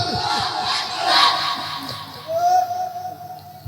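Large crowd at a Bengali Islamic sermon gathering roaring the Nara-e-Takbir slogan in unison, loud massed shouting in two swelling bursts with an amplified leader's voice ringing over them.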